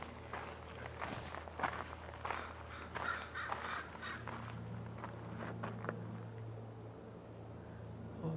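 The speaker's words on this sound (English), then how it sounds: "Lots of crows." Several crows caw repeatedly at a distance over steady outdoor background noise at a marsh, with soft footsteps crunching along.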